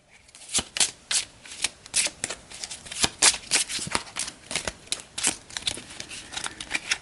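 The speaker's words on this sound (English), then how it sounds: "Let's give this a shuffle." A deck of cards for a World War II board game being shuffled, with rapid riffling and snapping bursts repeating close up.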